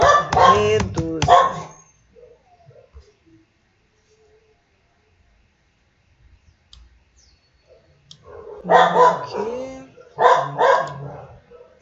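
Small dogs barking in bursts, a cluster of sharp yaps at the start, then near silence, then two more rapid bark volleys close by and loud.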